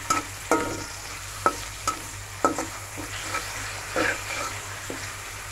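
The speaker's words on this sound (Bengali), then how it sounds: "পেঁয়াজ ভাজা হয়ে গিয়েছে" Onions frying in a pan with spices, a steady sizzle punctuated by several sharp stirring scrapes and clicks, close by, over a faint low background hum.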